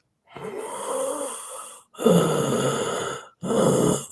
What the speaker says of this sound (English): you can just slow your breath down by tensing your throat a little bit